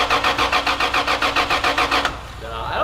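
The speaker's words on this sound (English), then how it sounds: "Hey, your Supra doesn't turn on, dude." A Toyota Supra with a 2JZ engine and old fuel cranks without catching: a fast, even rhythmic churning of the starter, loud and close, that stops abruptly and leaves a low hum.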